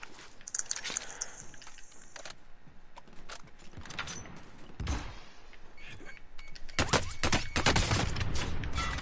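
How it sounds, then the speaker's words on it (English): Gunfire in the video game Warzone aimed at the player: sharp bursts of shots and rapid automatic fire crack out in clusters, loud and close, building toward the end. "Somebody else is shooting me."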